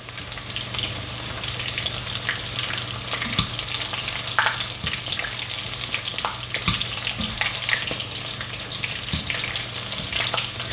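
Butterfly-cut shrimp coated in egg and tempura flakes fry in hot oil, a steady close sizzle and crackle with small pops throughout.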